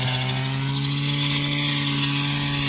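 A grass cutter hacks through tall grass by a river, a loud, steady, high-revving engine whine with a constant droning hum and no pauses across the few seconds.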